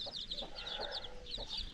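A broody hen with a clutch of nine chicks gives soft, repeated clucks while the chicks chirp steadily in thin, high peeps close by on a farm.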